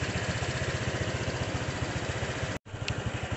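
A Honda Vario 125/150 scooter engine runs close up with a steady, rough, pulsing putter and stumbles unevenly as the throttle is opened. A brief cutout breaks the sound near the end, and no one speaks.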